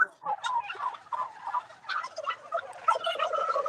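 An angry turkey on an Indiana turkey farm gobbles in rapid, rattling bursts, fairly close and loud, with several overlapping calls running continuously through the clip.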